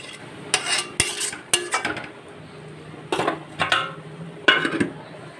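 Spice masala being stirred and scraped in a pan over a low flame while it cooks down for a mussel meat curry: intermittent clinks and metal scrapes in short bursts, close by, with no voices.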